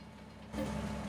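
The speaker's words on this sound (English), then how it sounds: "And now we're gonna be driving the train for just about maybe 10 seconds" A train in Farming Simulator 22 rumbles low, then a louder engine drone with a steady hum cuts in halfway through and holds.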